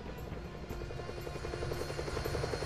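Steady helicopter rotor chop with a droning engine hum from the 1997 PS1 video game Fighting Force, continuous and fairly loud, with no voices.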